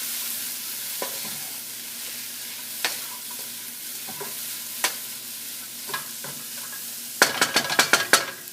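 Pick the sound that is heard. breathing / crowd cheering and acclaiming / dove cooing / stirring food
stirring food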